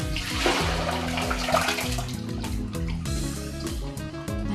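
Rice is washed by hand in water in preparation for pop rice, with continuous sloshing, swirling and splashing close by, no one talking.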